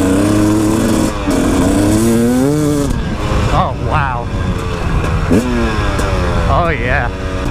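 A brand-new KTM 300XC-W two-stroke dirt bike engine revs loudly throughout, pitch rising and falling with throttle, while a person talks over it.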